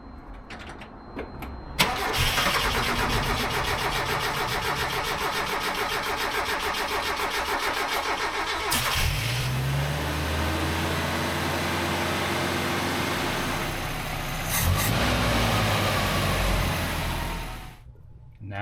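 An 1980s mini truck's carbureted engine cranks, catches and settles into a steady idle, with a brief rev mid-way and another change in pitch later, running loud and close before cutting off at the end.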